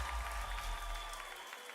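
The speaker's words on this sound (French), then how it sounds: "Est-ce que vous pouvez applaudir pour vous-même?" An audience at a talent show claps steadily, a lively patter of many hands with a faint crowd murmur and a low rumble beneath that fades near the end.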